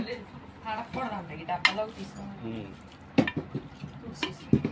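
A spoon stirs lemon juice into homemade chicken pickle, giving a few scraping clinks against the pot amid a soft, wet mixing sound, while someone talks over most of it.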